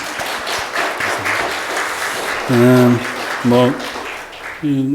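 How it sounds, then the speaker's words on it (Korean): A church congregation at a Sunday worship service applauds in welcome, a steady wash of clapping that swells and continues while someone speaks over it. "박수로 환영하겠습니다."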